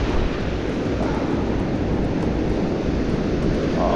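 Strong wind and surf on open water at sunset while fishing, a steady, loud roar of gusts buffeting the microphone over crashing swell, continuous throughout with no voices.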